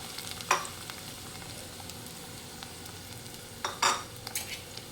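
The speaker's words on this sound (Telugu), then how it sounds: "ఓకే ఆయిల్ మరిగింది ఇందులో మనం ఆనియన్స్ వేసుకుందాం" Onions frying in hot oil for a chicken and mango gravy give a quiet, steady sizzle, broken by two brief scraping stirs.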